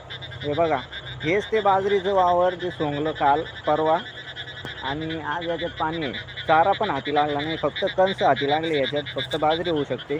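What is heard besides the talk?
frogs croaking in a flooded field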